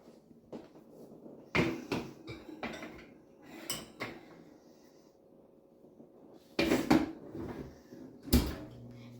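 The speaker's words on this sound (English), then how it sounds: "we need to put in the cupcakes in the oven" A metal cupcake tray goes into a home kitchen oven, giving several sharp clanks and knocks at irregular intervals, loud and close, with quiet gaps between them.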